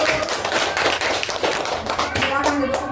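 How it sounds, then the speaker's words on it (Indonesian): A school class claps for a group of pupils during a lesson on intelligent machines. Quick, lively hand claps and taps are heard up close, mixed with children's voices talking over them. "tepuk tangan untuk kelompok 1."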